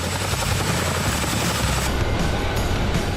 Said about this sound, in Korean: 교육생들을 태운 헬기가 하늘을 가릅니다.